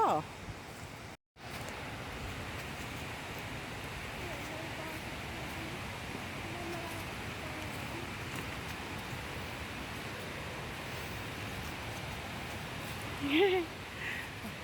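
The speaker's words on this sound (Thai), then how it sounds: "แล้วเราก็จะได้ยินเสียงน้ำตกอยู่ตลอดเลยนะ" Phrom Lok waterfall gives a constant broadband rushing roar along a lush forest trail, with the steady water noise filling the background and a brief voice rising near the end.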